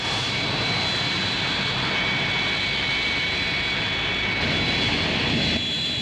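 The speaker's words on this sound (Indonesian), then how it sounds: "sebuah pesawat Douglas DC-9 seri 32 milik Garuda Indonesian Airways yang sedang melakukan take-off run dari runway 24" A Garuda Indonesian Airways Douglas DC-9-32 jet on its takeoff run from runway 24 gives a steady, loud, broadband engine roar with a high whine running through all six seconds.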